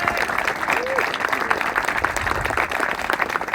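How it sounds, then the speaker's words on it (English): A live audience claps and applauds steadily, a dense continuous patter of hands filling the space at moderate volume with no pauses, as a guest named Craig Kohlberg, owner of Skylark, is welcomed. "I want to get a big round of applause"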